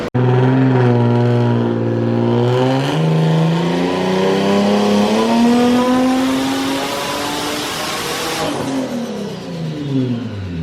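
A loud turbocharged Nissan 350Z engine on a dyno revs steadily upward, pitch climbing for several seconds before a whooshing release near the end, close and continuous.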